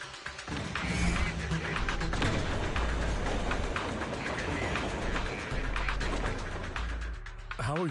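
A train moving in Zenless Zone Zero, heard as a continuous broadband rumble with low thumps and mechanical clatter throughout, fairly loud, mixed with game sound effects and a brief swooping tone near the end.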